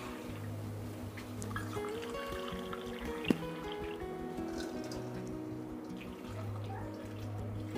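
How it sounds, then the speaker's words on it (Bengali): Water is poured into a pot of raw papaya curry with ginger-garlic paste and salt, giving a soft, continuous liquid trickle and splashing with a single sharp knock midway, quiet and close. "আর দিয়ে দিব পরিমাণ মতো পানি। এখানে আমি 1 কাপ পানি দিচ্ছি।"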